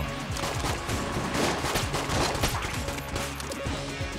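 Gunfire in Enter the Gungeon crackles in rapid, dense bursts, with overlapping shots and game effects filling the whole stretch. A voice is faint underneath.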